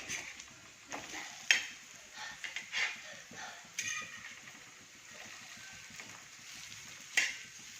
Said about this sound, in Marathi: चला, पण आता ह्या आपल्या वड्या एकदा पलटी मारून घेणार आहोत.